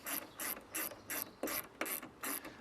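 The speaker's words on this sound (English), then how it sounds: "grab your spanner or your socket, and then just gently run that one home." Rapid ratchet clicks from a socket wrench tightening a bolt on an Allett Cambridge lawnmower, coming in about seven short, evenly spaced bursts, close and crisp with no talking.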